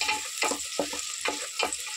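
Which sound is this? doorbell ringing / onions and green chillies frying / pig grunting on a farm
onions and green chillies frying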